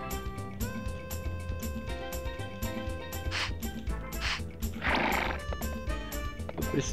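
Game horse in Harvest Moon 64 neighs a few times over steady background game music, with no talking.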